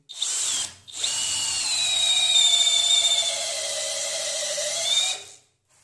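Pro-Craft PA 18Pro BL cordless drill running at second gear with a 16 mm wood bit, a loud, steady whine that starts briefly, pauses, then runs for about four seconds before stopping.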